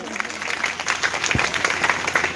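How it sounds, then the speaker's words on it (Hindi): Seminar attendees burst into lively applause, a dense and fairly loud patter of many hands clapping together, with some crowd noise mixed in. "एक बार जोरदार ताली"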